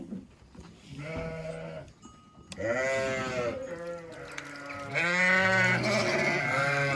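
Sheep bleat repeatedly inside a barn on a Turkish farm, several animals calling in overlapping, wavering cries that grow louder and denser toward the end, with no talk.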